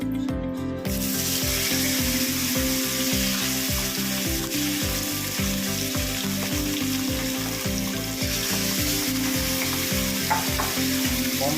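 Pomfret fish dropped into hot oil crackles with a loud, dense, unbroken sizzle, close up and steady from start to finish.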